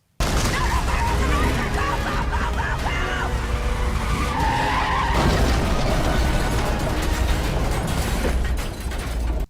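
A car in a film scene reverses and crashes, heard as a loud, continuous roar of engine and skidding tires with crunching impact noise and layered score, no voices.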